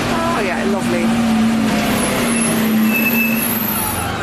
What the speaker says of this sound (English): It's refuse collection day. I should have thought. That's why it's a bit traffic noisy.